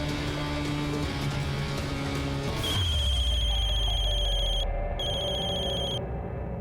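A phone call is placed and the line rings with repeated electronic tones that start partway through after a short low tone, steady and clear, with no talking.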